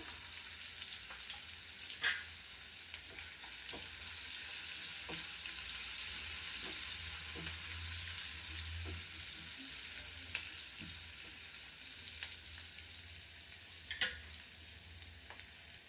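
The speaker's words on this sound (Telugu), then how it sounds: "ఉల్లిపాయలు కొంచెం కలర్ చేంజ్ అయ్యే వరకు వేయించుకోవాలి." Chopped onions with a little turmeric fry in a pan for an amaranth-leaf and chickpea curry, giving a steady, close sizzle throughout with a few sharp clinks of a stirring spoon against the pan and no talking.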